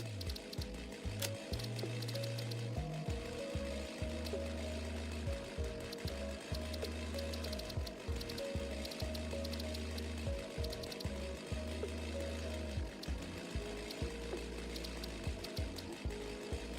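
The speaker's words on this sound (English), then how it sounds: "Oh, I can reduce the sound of the chainsaw. And just the chainsaw." A video-game chainsaw gives a loud, choppy mechanical rattle with a pulsing, ratchet-like rhythm that continues steadily, layered over a dense background of game noise.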